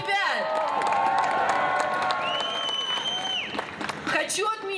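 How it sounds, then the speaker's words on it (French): A crowd applauds and cheers, with loud sustained clapping, whoops and shouting voices filling the space, and voices mixed into the din throughout. "On peut les applaudir."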